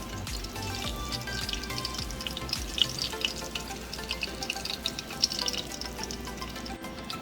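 Stuffed peppers for chiles rellenos sizzle steadily in a pan over low heat, a constant crackling fry with small pops, close and moderately loud.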